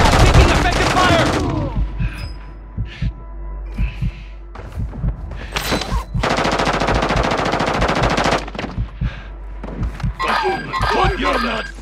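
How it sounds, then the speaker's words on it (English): Machine gun fire in the video game Warzone 2, long loud automatic bursts with brief pauses between them and game voices calling out underneath. "Taking effective fire."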